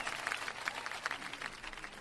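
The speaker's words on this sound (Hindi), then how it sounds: "तालियों के साथ इनका स्वागत कीजिए मंच पर।" Audience at a comedy and poetry show applauds to welcome poet Saurabh Jain onstage: brief, fairly quiet, continuous clapping from a crowd.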